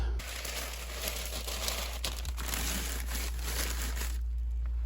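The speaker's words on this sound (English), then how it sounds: "We have packing paper for that." Crinkly, rustling paper being handled and crumpled close by, a steady stream of crackles that fades out near the end.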